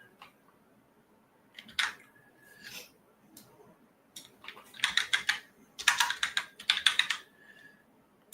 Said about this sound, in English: So I'm going to manually type it.